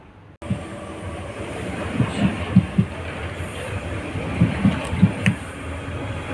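An RER D commuter train at Melun station in France rumbles past close by, its wheels giving a run of rhythmic clacks over the rail joints. A faint high whine sits above the steady rolling noise.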